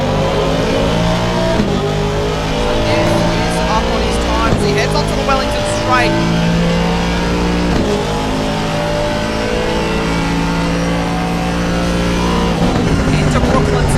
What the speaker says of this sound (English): it is a twin-turbo V8 Mercedes engine stuffed into this Aston